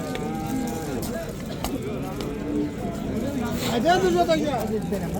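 Cattle mooing repeatedly at close range at a livestock market, with a busy crowd of voices talking underneath throughout.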